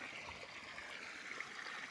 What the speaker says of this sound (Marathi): बघा ह्या साईडला पण पाणी चाललेलं आहे